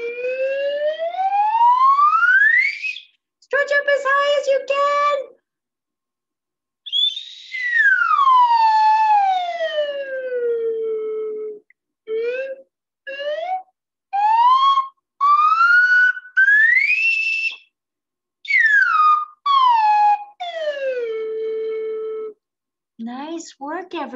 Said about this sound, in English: First with our slide whistle.